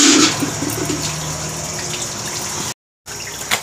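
Clothes being washed by hand in a basin of water, with close, steady sloshing and splashing that runs continuously before a brief silent gap and then resumes.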